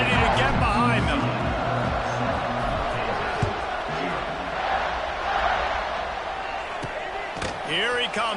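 A dense, steady stadium roar from a packed college football crowd at kickoff in the video game NCAA 26, loud and continuous for the whole stretch, with chanting voices and scattered thumps mixed into the wash of noise.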